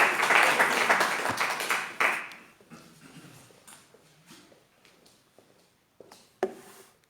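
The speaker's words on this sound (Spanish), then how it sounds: "que el aplauso sea para Dios" Church congregation applauding after a sermon: a burst of clapping that fades within about two seconds, followed by scattered claps, rustling and quiet movement in the room.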